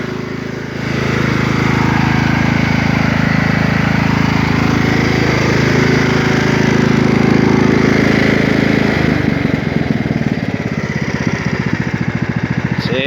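A 1998 Craftsman DLT lawn tractor with a 16.5 hp Kohler Command engine and a 46-inch hydrostatic deck runs steadily nearby. The drone stays loud and even, then turns a little choppier near the end.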